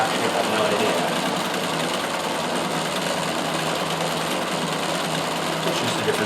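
Close, steady whir and rapid clatter of a Riccar 570 stretch-stitch sewing machine running a cam-driven flower stitch, continuous and loud throughout with no pauses.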